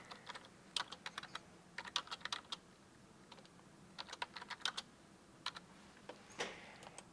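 Typing on a computer keyboard produces faint, quick clusters of key clicks in irregular bursts with short pauses between them, close by and alone.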